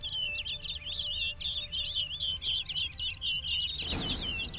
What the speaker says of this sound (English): Looks like the bird's leading me somewhere.